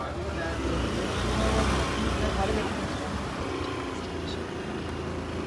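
A car drives along roads in Nainital, giving a steady, continuous engine and road rumble heard from close by, even in level throughout with only slight swells.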